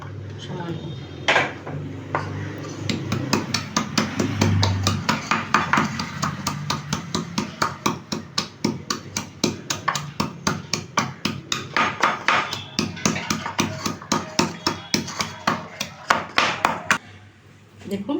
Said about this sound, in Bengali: এবার রসুন কটা ছেঁচে নেবো দেখুন